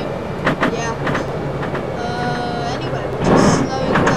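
A metro train in a Metro Simulator game rolls along and slows, with a loud, steady rail rumble, clicking wheels and a brief squeal swelling near the end, while a person talks over it.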